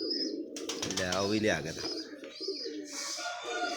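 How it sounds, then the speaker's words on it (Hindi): Pigeons coo and flap their wings close by, a burst of soft fluttering and throaty calls mixed with someone talking over them. "लो जी कबूतर देखें जी"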